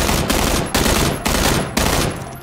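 Rapid bursts of assault rifle fire in PUBG, likely an M416, AKM or M16A4, crack out loud and close in four dense blasts separated by brief gaps.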